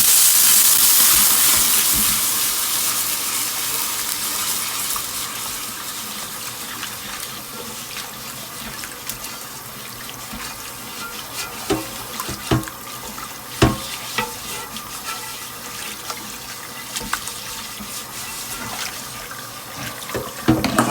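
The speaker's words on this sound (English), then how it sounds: "You're going to get a lot of steam." Hot water poured onto a hot cast iron pan during rust restoration bursts into a loud hiss of steam that slowly fades into crackling sizzles and pops, with no talking.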